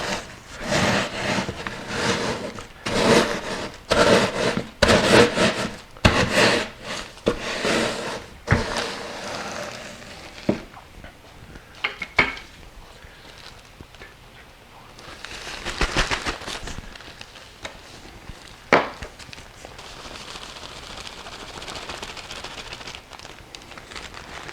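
Bags of freeze-dried blended oranges being crushed by hand, a dense run of crunching and crackling over the first ten seconds, then scattered crinkles and softer rustling, close and fairly loud.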